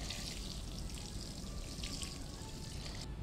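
Water pours gently onto a potted grape seedling, a soft, steady splashing stream that runs evenly throughout at low volume.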